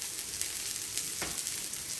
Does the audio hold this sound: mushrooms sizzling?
yes